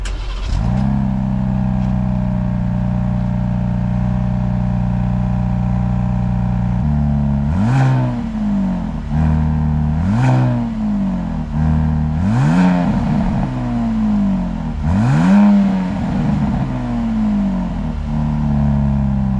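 A 2025 Ram 1500 RHO pickup truck engine idles steadily, then revs hard four times in succession, each rise falling back to a loud, close rumbling idle.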